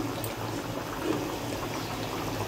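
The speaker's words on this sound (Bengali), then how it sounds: "দেখো এদিকে মাংস বসিয়ে দিয়েছি, জল দিয়ে দিয়েছি আমি" Meat simmers in water in a cooking pot, giving a faint, steady bubbling and churning with no talk.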